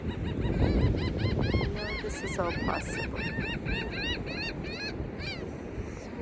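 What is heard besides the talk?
birds calling outdoors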